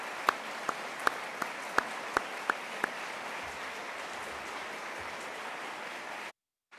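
An audience applauds a keynote speaker at a peace studies conference, steady clapping throughout at moderate distance, with a few sharper claps standing out early before the sound cuts off abruptly.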